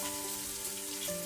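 Onions, about three handfuls, fry in a pan for a Mysore-style donne biryani, giving a brief, steady sizzle at moderate loudness with a faint tonal hum underneath and no voices.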